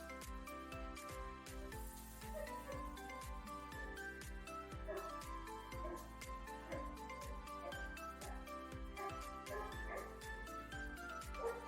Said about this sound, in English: Please excuse the neighbors' very noisy dogs.